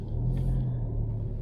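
Steady low rumble of a car engine pulling away slowly in drive, a constant mid-low drone with little revving, no voices.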